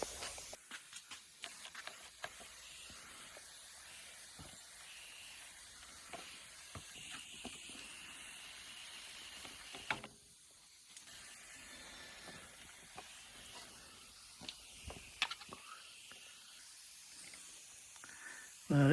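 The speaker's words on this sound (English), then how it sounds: "But I will spray down the radiator" Water sprayed onto the radiator of a Lotus Elan during its first start after long storage gives a sustained hiss with scattered bursts and clicks, briefly dropping quieter midway before resuming.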